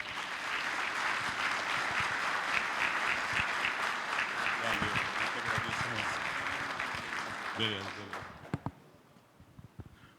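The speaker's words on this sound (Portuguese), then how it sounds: "com uma salva de palmas, recebam o professor Paulo Serrano" Sustained audience applause fills a symposium hall as a professor is welcomed on stage, steady and dense before thinning out into a few scattered claps and fading at the end.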